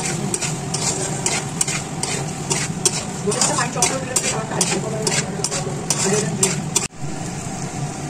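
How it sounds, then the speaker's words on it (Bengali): Tomatoes with spices fry in a pan for a spicy Bengali rohu-style fish curry, stirred continuously with rapid scraping strokes over a loud, steady sizzle that cuts off abruptly near the end. "এবার এখানে দিচ্ছি টমেটো।"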